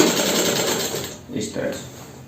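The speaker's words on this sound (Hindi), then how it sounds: "बस इसके ऊपर हम सिलाई लगा देंगे" Sewing machine stitching two underwear pieces together, a close, steady, rapid mechanical whir that slows briefly near the end of the run.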